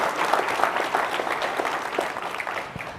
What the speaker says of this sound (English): So I just want to give a quick thank you and applause to the incredible STAT